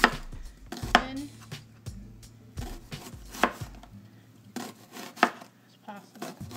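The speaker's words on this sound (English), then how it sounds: "I'm going to cut it in half again, get the cabbage, and try to make it as thin" A knife julienning cabbage thumps steadily on a cutting board while making cole slaw, with close, moderately loud, evenly spaced chops separated by short pauses.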